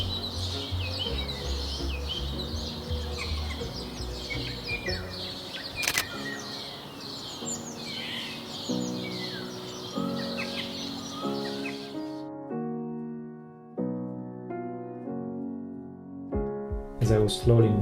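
Starlings call and chatter in the background among bushes, faint varied chirps and whistles over a soft ambience, with a few clearer tonal notes near the end.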